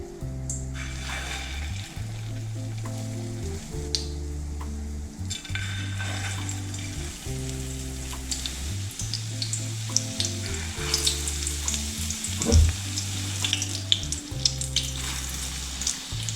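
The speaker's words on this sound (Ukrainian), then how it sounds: "Обмокую зразу в яйці і викладаю на розігріту олію." Close, steady sizzling of egg-dipped potato patties frying in hot oil, with occasional crackles and faint clinks from a utensil, no speech.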